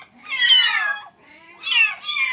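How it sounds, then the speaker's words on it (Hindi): A frightened cat gives two drawn-out, wavering meows in close succession, loud and near, with a short gap between them and no talk over them. "देखिए बिल्ली यहाँ आके खड़ी है, बहुत घबरा रही है बेचारी।"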